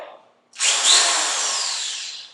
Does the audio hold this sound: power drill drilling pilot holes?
yes